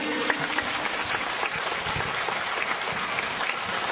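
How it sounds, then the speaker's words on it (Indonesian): Applause from an audience during a religious lecture, a dense, continuous clatter of many hands at moderate level, steady from start to finish. "Tepuk tangan bu."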